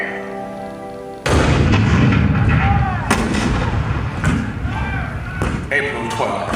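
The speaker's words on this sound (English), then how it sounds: "Fort Sumter. The cannon spoke for war, bitter, violent, and devastating." Cannon fire at Fort Sumter in 1861, staged as a theatrical show, comes as a sudden loud boom followed by rolling, repeated blasts and rumble that continue under a narrator's voice.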